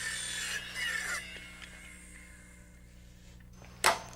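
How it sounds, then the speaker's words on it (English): A wooden rafter tie is cut to length during roof framing, a brief rasping saw stroke over the first second, then near silence before one sharp knock close by. "I mark and cut the rafter tie to length and clip it just like the other end"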